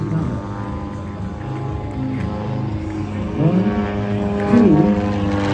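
Propeller aerobatic plane at a flying circus air show in Bealeton, Virginia, droning steadily with pitch that rises and falls through maneuvers, fairly loud throughout with no talk.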